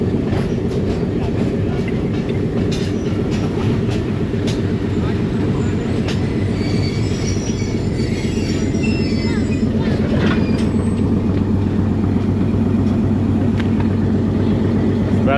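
A slow passenger train from Rawalpindi to Havelian runs on rails through hilly country, giving a steady close rumble with rhythmic wheel clatter and brief squeals, with faint voices in the background.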